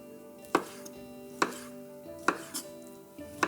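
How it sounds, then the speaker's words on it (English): A knife slicing chorizo into half-centimetre rounds on a board: four or five crisp, evenly spaced chops over a faint steady background hum, with no talking. "My chorizo, just want rounds, about ½ centimetre."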